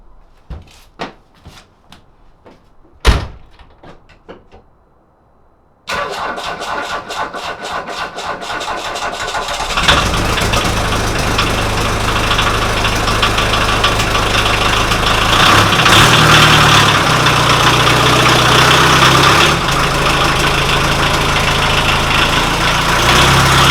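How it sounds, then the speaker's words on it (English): A turbodiesel engine in a Rabbit cold-starts in about 30-degree cold: a few loud clicks and a thump, then the cranking catch, and it settles into a rough, loud, steady idle heard up close with no talking. "30-degree-ish cold start."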